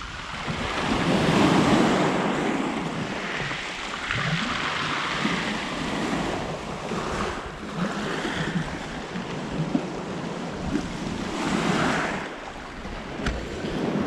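Continuous wash of Black Sea waves breaking and surging on the shore near Yalta, Crimea, mixed with gusty wind buffeting the microphone, no voices.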